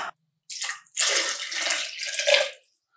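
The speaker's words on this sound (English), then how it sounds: "we're just gonna add some agua" Water pours into a pot for mole enchiladas, a close hollow splashing stream in bursts after a short silence, tapering off; no speech.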